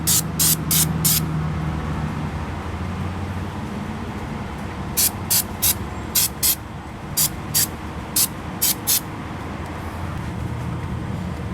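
Suzuki Boulevard/Savage 650 cam chain tensioner parts being rinsed with sharp, close spray bursts: a quick triple burst, a pause, then a run of short, evenly spaced sprays.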